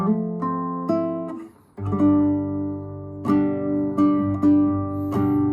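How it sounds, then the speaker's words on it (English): A piano plays a short repeating riff of sustained chords and notes, with a brief pause before the phrase resumes; no voices. "So the riff, I suppose, kind of sounds like this, but of course it's being played on the piano"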